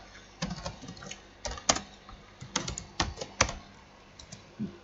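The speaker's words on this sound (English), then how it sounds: "But I'm just going to type in the code." Typing code on a computer keyboard, with quick irregular bursts of light key clicks and short pauses between them, close and fairly quiet, with no talk.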